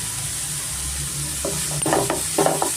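Onions frying in a pan with turmeric and salt, a steady close sizzle with stirring scrapes growing louder and more frequent toward the end.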